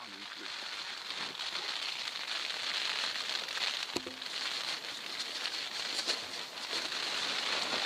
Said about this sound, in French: Il ne devait pas pleuvoir, mais il pleut.